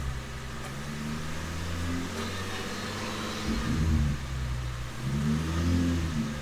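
Infiniti G37 or G35 engine being revved during a Seafoam treatment, a steady idle rising into two louder throttle blips near the end, heard up close with no talk.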